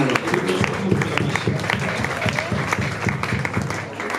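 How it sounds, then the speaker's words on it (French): Wedding guests applaud in a dense, steady round of clapping that carries on for the whole stretch, close and fairly loud, with no distinct voices above it. "Acclamez alors."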